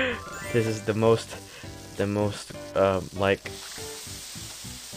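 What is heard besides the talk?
food frying in a pan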